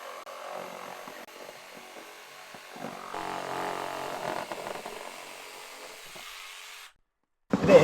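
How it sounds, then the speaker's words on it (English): A jigsaw cuts timber for a shed, its buzzing motor running steadily with the rattling blade, building louder midway before cutting off abruptly near the end. "I'm going to get it cut with the jigsaw."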